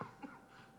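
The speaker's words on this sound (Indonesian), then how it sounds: "Lagi batuk." A single short cough in a courtroom hearing, quiet and slightly distant, a brief burst followed by low room noise.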